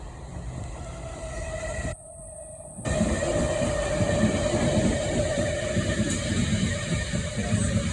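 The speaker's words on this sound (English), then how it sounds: "I love the sound of trains going over points." A British Rail Class 350 electric train rolls past nearby at Rugby on the West Coast Main Line with a rumbling roar, its wheels clattering and thumping irregularly as it crosses points.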